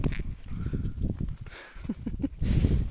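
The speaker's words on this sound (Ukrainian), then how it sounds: "Кінь сердитий на ланцюга." Hooves of an agitated horse on a chain clip-clop on hard ground in a quick, uneven rhythm, close by, with shuffling and a low snort among the steps.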